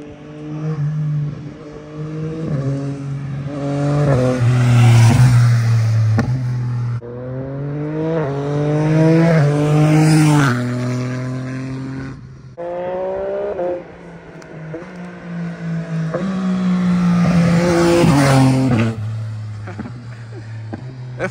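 A Yamaha Tracer 9 motorcycle engine revs repeatedly in the distance, each pass rising in pitch through the gears, then fading before the next surge.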